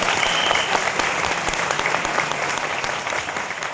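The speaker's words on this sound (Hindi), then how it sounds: "एक बार जोरदार तालियां सभी मेहमानों के लिए।" A large crowd of guests claps enthusiastically in a dense, continuous burst of applause that fades slightly toward the end.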